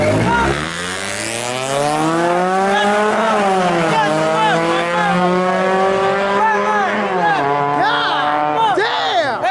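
H22 turbo Japanese car revving hard through a burnout at a car meet, a loud continuous engine wail with rising and falling pitch and screeching tires, sustained throughout with spectators' voices faintly underneath.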